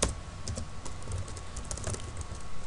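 Rapid typing on a computer keyboard, close and clear, with irregular bursts of key clicks running continuously and no voices.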